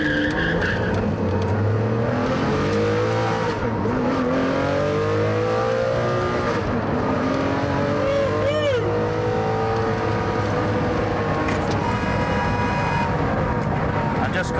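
A car pulls away hard in first gear, its engine rising in a rapid sweep of revs with tyre noise and a brief squeal, loud and close, with a voice briefly heard over it.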